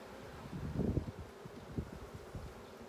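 Honey bees buzz around an open hive, a soft low hum with intermittent louder swells as individual bees pass near, under faint rustling and light wind.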